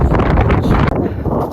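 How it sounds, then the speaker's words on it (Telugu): Strong wind buffets the microphone outdoors, producing a loud, continuous low roar that dips for an instant midway and then resumes. "ఇప్పుడు లొకేషన్ అయితే గాలి ఘోరంగా వస్తుంది"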